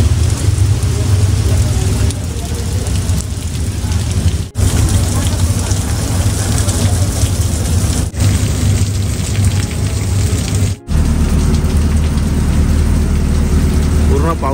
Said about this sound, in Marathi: पाऊस पडायला सुरुवात पण झाली